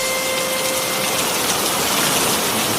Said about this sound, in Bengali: নাহ, এ বৃষ্টি থামার মতন বৃষ্টি নয়।